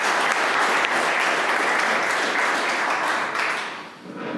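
Loud, sustained applause from a conference audience fills the room, a dense wash of clapping that holds steady before thinning and tapering off near the end.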